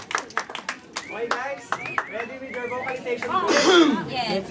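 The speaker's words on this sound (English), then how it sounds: "Team Jerome, let's give them a round of applause." A round of audience applause greets a team at a holiday group competition event, scattered sharp claps rising and thickening toward the end while people chatter and speak over the clapping throughout.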